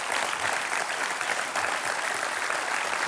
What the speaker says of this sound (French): Il a encore le courage d'applaudir.